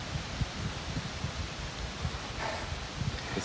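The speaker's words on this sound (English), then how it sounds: "It's starting to rain and it's starting to get windy." Gusty wind sweeps across an open golf course as rain begins, a soft steady hiss with low buffeting thumps against the microphone throughout, fairly faint with no talk.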